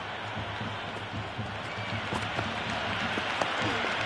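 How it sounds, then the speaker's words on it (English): Dense applause and cheering fill a cricket stadium, a broad steady roar from a large crowd, with a commentator's voice faintly underneath. "It's evident and ever so audible that the crowd is at near bursting point at today's play."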